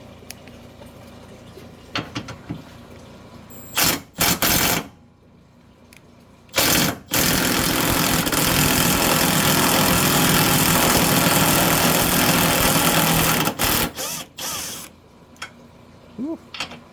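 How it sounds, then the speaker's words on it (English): An impact ratchet removes radiator bolts during a Ram 2500 radiator teardown. It gives short, loud, buzzy bursts, then one long sustained rattling whir of about six seconds, followed by a few more brief bursts, with no talk. "the impact ratchet"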